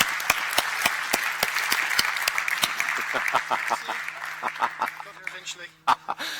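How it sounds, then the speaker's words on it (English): Audience applause at a talk or lecture, a burst of many clapping hands that starts strong and thins out toward the end, with a few closer claps and brief murmurs. "let's give him a warm round of applause while he gathers his breath"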